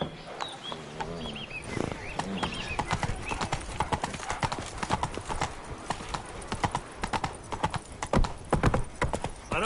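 Roach, a horse in the video game The Witcher 3, trotting with brisk, steady clip-clop hoofbeats up close, a short whinny near the start and faint birdsong in the background.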